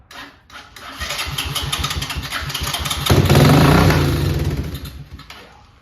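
A 1984 Honda TRX 200 ATV engine runs rough after starting, chugging unevenly and rising to a louder, throatier surge midway before falling back. It is close and there is no speech.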